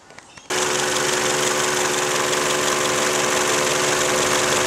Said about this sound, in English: that fan's just kicked in